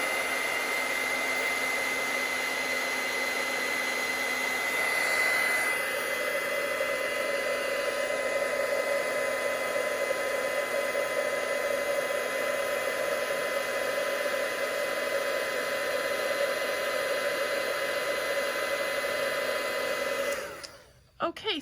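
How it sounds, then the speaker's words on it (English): A heat tool blows a steady, loud whirring hiss while melting embossing powder on a card, running unbroken for about twenty seconds before cutting off with a clatter. "I'm just gonna use my heat tool and heat this up"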